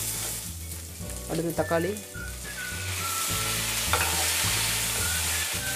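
Onion, ginger, garlic and tomato sauté in a pan for a vallarai keerai (pennywort) chutney, giving a steady close sizzle and frying hiss with occasional stirring scrapes and clinks; a voice speaks briefly.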